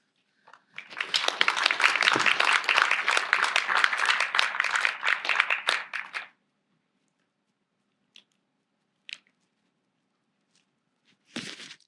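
An audience applauding at a poetry night: a dense burst of clapping swells quickly and holds for about five seconds, then cuts off into near silence with a few faint, scattered knocks.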